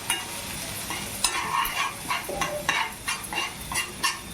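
Frying in oil for ambadi bhaji, a Marathi sorrel-leaf dish: a constant sizzle sits under repeated scraping stirs in the pan, about one every half second, loud and close.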